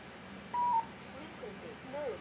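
Touch-tone DTMF codes keyed in to remotely control a Wouxun KG-UV920P transceiver, heard as one clear tone burst followed by fainter chirpy signal sounds, with low background noise.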